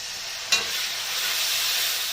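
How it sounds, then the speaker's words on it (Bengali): Mutton masala with a little water sizzling and bubbling in a pan, a continuous close frying hiss with one brief sharp clink near the start. "এটাকে ভালো করে কষিয়ে নিতে হবে।"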